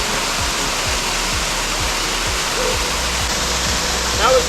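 Steady broadband roar of a waterfall along the Pine Ridge Trail near Pine Valley, California, heard close and loud throughout, with low rhythmic thumps of footsteps underneath.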